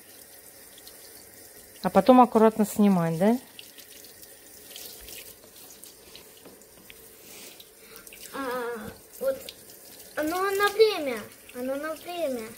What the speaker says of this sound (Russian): Надо здесь гречку сейчас надо смыть.